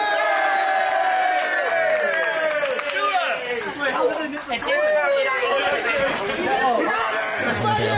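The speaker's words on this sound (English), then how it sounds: "We're having some applause in the building as well now." Crowd at a women's wrestling event, a steady wash of cheering and chatter with some clapping, under continuous commentary voices.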